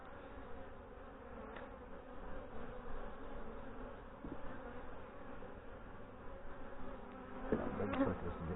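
Honey bees swarm and buzz at an open hive in September, a dense, continuous drone up close that swells louder near the end, with no talking.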